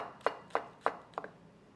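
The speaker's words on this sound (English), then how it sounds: "Once I get the big pieces cut, then I start getting to like the actual mincing." A kitchen knife chops vegetables on a board for stuffed bell peppers, four sharp evenly spaced taps followed by a quick double tap, close and clear with no talk.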